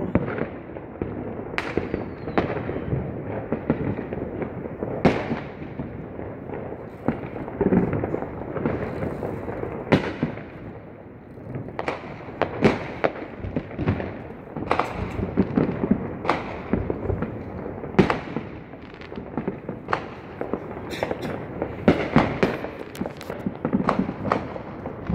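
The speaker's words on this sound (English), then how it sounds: "When midnight rolls around, we explode with fireworks." New Year's midnight fireworks in New Orleans, Louisiana crackle and burst in a steady barrage of sharp bangs, some near and loud, others fainter and farther off, over a constant rumbling wash.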